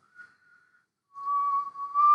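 A person whistles a short tune, with a faint brief note followed by a louder sustained whistled line that rises at the end.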